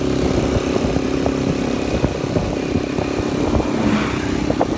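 A motorcycle taxi carries passengers on a road near Argao, Cebu, its engine droning steadily and close with rattling clatter and no talk.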